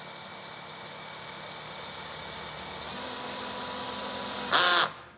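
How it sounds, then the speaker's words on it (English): A power drill on its softest clutch setting cranks a 5th wheel trailer jack, a steady high whine with a rising hum, ending in a brief louder ratcheting burst as the clutch slips before stopping. "You can hear my drill clutching out."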